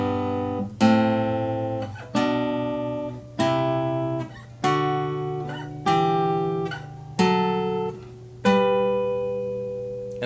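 Guitar riff in open G or open D tuning, a repeating pattern of strummed chords ringing over a droning low string, about six strong attacks at an even pace, close and unaccompanied.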